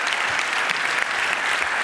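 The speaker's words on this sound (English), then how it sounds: "Give him a warm round of applause" An audience at a talk on NSA spying applauds, with dense, steady clapping from a crowd filling the whole moment.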